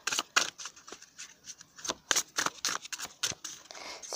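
Tarot cards being shuffled and cut by hand, a quick irregular run of crisp papery snaps and riffles, close and fairly quiet, with no talking.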